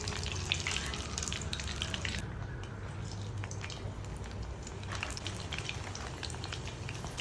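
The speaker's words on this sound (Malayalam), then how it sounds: "അപ്പോൾ ഞാൻ അതൊന്ന് ഫ്രൈ ചെയ്തെടുത്തതിന് ശേഷം അതേ ഓയിലിലേക്കാണ് കേട്ടോ സമൂസയും കൂടെ ഒന്ന് ഫ്രൈ ചെയ്തെടുക്കുന്നത്" Samosas deep-fry in hot oil, a dense, steady bubbling sizzle that runs throughout with fine crackles popping over it, no voices.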